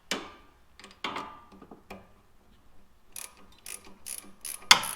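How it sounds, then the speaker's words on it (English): A wrench works on a bolt of a 2003-2008 first-generation Honda Pilot front shock, giving a few close metallic clicks and ratcheting clatters with short pauses between them, with no talk. "I'll tighten the rest of the way with the wrench."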